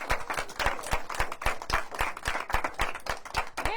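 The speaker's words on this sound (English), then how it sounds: "Give yourselves a big round of applause." A group of children clap together in a round of applause, a dense, steady patter of many small hands fairly close by, lasting a few seconds.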